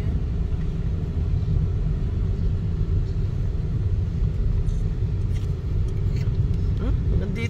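Car driving along a beach road, a steady low engine rumble and road noise that continues throughout, with voices faintly present.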